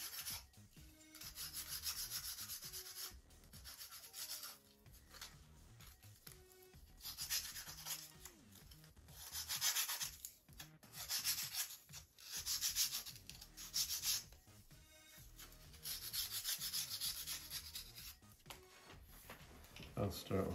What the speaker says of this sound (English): Light sanding is all I'm doing on these.